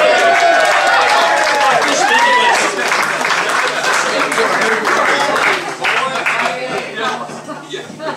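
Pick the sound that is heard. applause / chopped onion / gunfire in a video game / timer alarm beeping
applause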